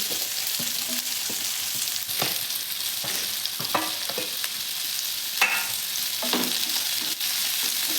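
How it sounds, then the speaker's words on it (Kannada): Chopped onions sizzle and crackle steadily in a hot pan while being stirred for a restaurant-style mushroom Manchurian, with occasional scraping stir strokes over the continuous frying hiss, close and fairly loud, no talking. "ಎಲ್ಲ ನೀಟಾಗಿ ಮಿಕ್ಸ್ ಮಾಡಿಕೊಂಡು ಫ್ರೈ ಮಾಡ್ಕೊಳ್ಳಿ ಸ್ವಲ್ಪ ಕಲರ್ ಚೇಂಜ್ ಆಗೋವರೆಗೂ ಈರುಳ್ಳಿ ಫ್ರೈ ಮಾಡ್ಕೊಳ್ಳಿ"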